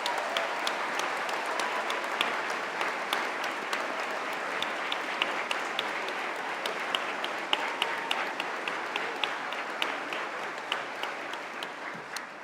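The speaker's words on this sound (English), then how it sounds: "I think we should have a round of applause, actually, for all of our graduates" Distant, fairly quiet applause from a crowd at a university graduation ceremony, a steady patter of clapping with individual sharp claps standing out, continuing for the whole stretch.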